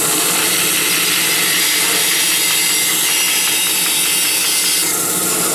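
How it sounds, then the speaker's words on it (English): A bandsaw cuts through wood with a loud, continuous hiss and rasping buzz, steady and close throughout with a slight change in tone near the end, no voices. "Turn on the bandsaw."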